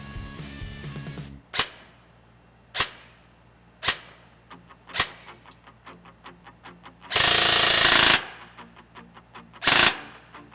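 A Ronin T6 airsoft gun fires in a rate-of-fire test: several sharp single cracks spaced about a second apart, then a loud, dense full-auto burst lasting about a second and a final short burst, close and punchy.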